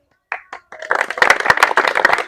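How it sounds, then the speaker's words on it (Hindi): Audience applause at an Independence Day celebration held by athletes begins with a few scattered claps, then swells into dense, loud clapping from a crowd. "मैं अपना उत्साहवर्धन आपके तालियों से चाहता हूं"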